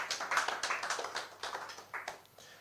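An audience at a political app launch event applauds with a burst of brisk, uneven clapping that starts strong and gradually thins out, fairly close and with no talk over it.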